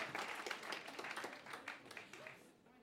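Audience applauding a comedian walking onstage at a stand-up comedy show, steady dense clapping that carries on through the clip and fades slightly toward the end, with faint voices mixed in.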